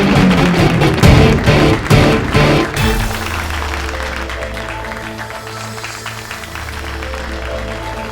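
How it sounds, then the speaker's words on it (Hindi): Studio audience applause greeting a contestant on a comedy show set in a police station, a loud burst of clapping and cheering that stops sharply, leaving a quiet musical background. "इनके मुकाबले के लिए जोरदार तालियों से स्वागत करें"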